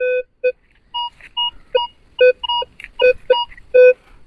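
Metal detector beeping repeatedly over a target, loud short electronic tones of varying pitch in an irregular burst of about a dozen beeps.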